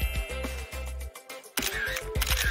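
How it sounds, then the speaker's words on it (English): A camera shutter snaps a selfie in an animated school comedy, giving a few quick, close clicks among other short sounds. "Wanna take a selfie with me?"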